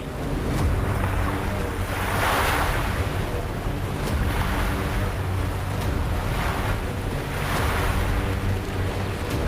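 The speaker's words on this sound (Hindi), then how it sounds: "टापू के और करीब पहुंचे तो समंदर की हलचल और तेज होती गई" Rough Arabian Sea waves surging near a heart-shaped island, a continuous loud wash of surf and wind with repeated swells cresting every couple of seconds, close to the microphone, with no voices.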